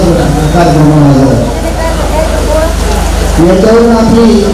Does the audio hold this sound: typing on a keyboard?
no